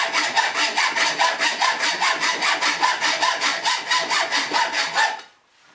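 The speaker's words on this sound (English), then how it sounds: "we'll go to a regular hacksaw that I have" Hand hacksaw cutting the profile of a steel knife blade, a close, steady back-and-forth rasp of about four strokes per second that stops abruptly near the end.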